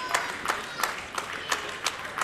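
Wrestling crowd at an FWA UK show backing El Ligero against Nathan Cruz, clapping in a steady rhythmic unison beat, about three claps per second, with a crowd murmur underneath.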